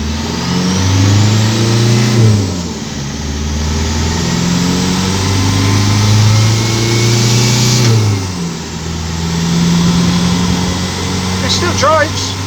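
A Ford Fairlane 500 engine drives along steadily, its mid-pitched hum rising and falling through gear changes as the car accelerates, heard loud and close from inside the car.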